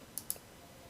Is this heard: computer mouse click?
yes